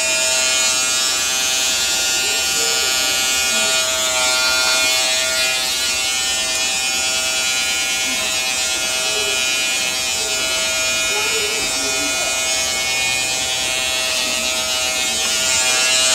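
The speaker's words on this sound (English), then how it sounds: "it's a lot easier to take the clipper" An electric hair clipper buzzes steadily and close during a woman's trim-up haircut, holding a constant tone throughout.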